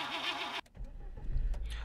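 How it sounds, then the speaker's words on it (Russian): Škoda Karoq 2018 engine starting in the City Car Driving game: a brief whirring crank cuts off, then the engine catches into a low, steady idle rumble with a faint click at the end. "пробуем включить снова двигатель"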